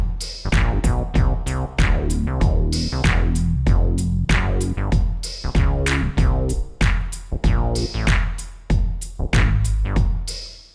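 A Korg Poly-6 synthesizer plays a smooth, rhythmic bass line of repeated plucky notes with quick decays, steady and fairly loud, with no talking over it.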